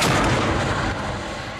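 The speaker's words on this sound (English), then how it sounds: "An explosion in the base of the cannon creates a single pulse of air the shape of a donut." A vortex cannon fires with an explosion in its base, giving one loud, booming blast that decays into a long rumbling wash of noise, with no voices.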